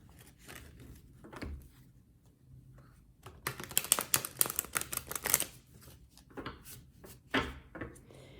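Crisp riffling bursts of tarot cards being shuffled close by, several rounds with short pauses between, loudest in the middle.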